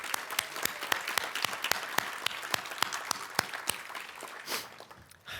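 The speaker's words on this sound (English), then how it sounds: "Let me give one more round of applause for Brandon." An audience at a community service awards event gives Brandon a round of applause, sharp individual claps ringing out close by over a continuous bed of crowd clapping that tapers off near the end.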